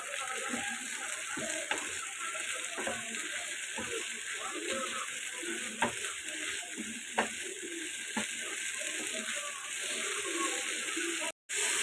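Eid sacrifice beef tripe stir-fried in a pan, a steady close sizzle with scattered scraping clicks of the spatula running throughout.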